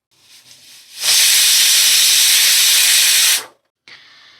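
A pressure cooker cooking goat liver vents steam in one loud, sustained hiss of about two and a half seconds that cuts off sharply, followed by a short fainter burst.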